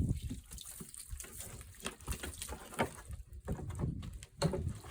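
Water splashes and trickles over a white oak bookend in a woodworking shop, an uneven close wet patter with scattered drips and a noisy background, no one talking.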